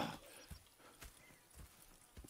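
Horses in the video game Red Dead Redemption clip-clop at a walk, a handful of soft, fairly quiet hoof strikes spaced unevenly over low background ambience, with no talking.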